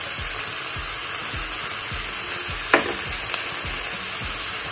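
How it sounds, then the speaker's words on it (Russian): Meat and onions fry in a pan for plov, giving a steady, close sizzle with rhythmic low knocks and scrapes from stirring throughout. "И оставим обжариваться еще до золотистой корочки."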